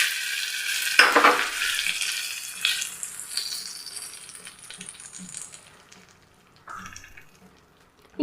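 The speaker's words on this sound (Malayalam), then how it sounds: "ഇനി നമുക്കിതൊന്ന് കടുക് വറുത്തെടുക്കാം കേട്ടോ." Mustard seeds, urad dal, dried chillies and curry leaves drop into hot oil with a sudden loud crackling burst that fades over a few seconds, followed by one short, quieter sizzle near the end.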